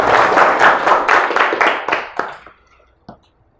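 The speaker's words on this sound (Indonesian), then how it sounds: "Tepuk tangan untuk temannya." A classroom of students claps for a classmate called to the front, a burst of brisk claps that thins out and stops after about two and a half seconds, followed by a single late clap.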